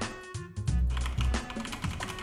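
Computer keyboard keys tapped in a quick, uneven series of close clicks and clacks, with no voices.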